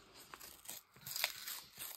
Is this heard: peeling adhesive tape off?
yes